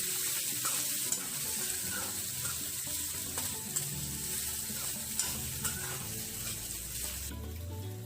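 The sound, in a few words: stirring cooked rice into frying pan for lemon rice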